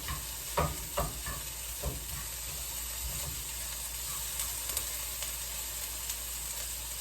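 Food sautéing in cannabis butter in a pan, with a steady low sizzle and a few clattering stirs near the start, heard close with no talk.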